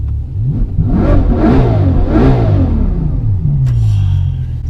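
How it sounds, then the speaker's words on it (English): A Bugatti Chiron's V12 engine revs up and down, its smooth roar rising and falling in pitch, close by and loud, in Monaco. "I tell you what is smooth. This V12 engine."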